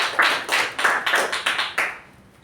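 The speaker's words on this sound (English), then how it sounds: "can we have a huge round of applause for both the speakers and their evaluators?" A small meeting audience claps for speakers and their evaluators, a short run of about six distinct, close claps in an even rhythm that then stops.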